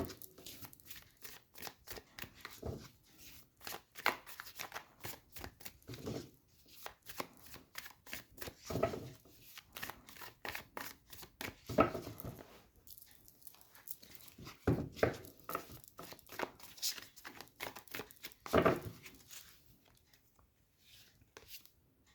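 Tarot cards are shuffled and drawn by hand in a quiet room, with repeated soft riffles and slaps of the deck in irregular bursts and short pauses, close and fairly faint, with no talk.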